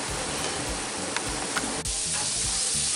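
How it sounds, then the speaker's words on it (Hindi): Mutton keema sizzles on a flat tawa over a high-to-medium flame, a steady bright hiss with a few soft clicks and scrapes as the mince is stirred, close and continuous. "उसको हाई टू मीडियम फ्लेम पे कुक करते रहेंगे, और उसको लगातार इस तरह से बीच बीच में 1-2 मिनट में चलाते रहेंगे"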